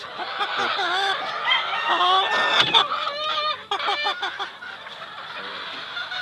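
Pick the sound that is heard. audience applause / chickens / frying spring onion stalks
chickens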